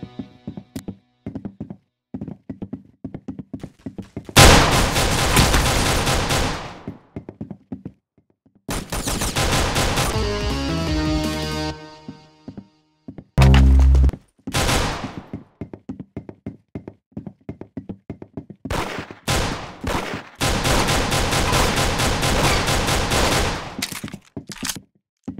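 Gunfire crackles through a 1v1 video game match in several loud, rapid bursts and fusillades, each separated by short quiet gaps, with a few isolated single shots and knocks.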